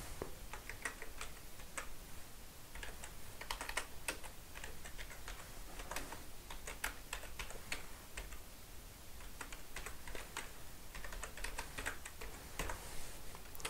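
Someone types on a computer keyboard while entering spreadsheet data. The soft clicks come in irregular bursts, quiet and close, with no talking.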